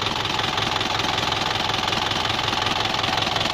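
A car engine idles after a crankshaft seal leak repair, making a loud, close, steady rhythmic ticking and chugging that continues evenly throughout with no talking.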